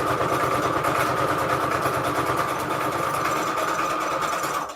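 A sewing machine stitches through book pages for a Christmas junk journal, running in a fast, steady mechanical whir with a rapid needle rhythm throughout before stopping abruptly at the end.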